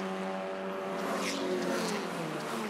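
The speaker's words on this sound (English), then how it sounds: "More cars joining in now." Several race cars in a racing video game drive together, their engine tones layered and steady at moderate distance, with a faint rise as more cars join.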